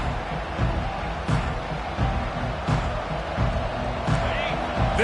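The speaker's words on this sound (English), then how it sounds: "This crowd bringing an ear-splitting welcome to their visitors." A stadium crowd roars in an EA Sports College Football video game as the visiting Canes kick off, a broad continuous crowd din with periodic thuds while a play-by-play commentator talks over it.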